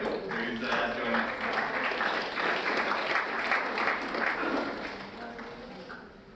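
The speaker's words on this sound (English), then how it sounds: "let's have a nice big round of applause for David Beaumont" An emergency care conference audience applauds a speaker, steady dense clapping from a crowd that holds evenly and then fades away toward the end.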